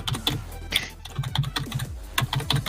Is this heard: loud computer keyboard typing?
yes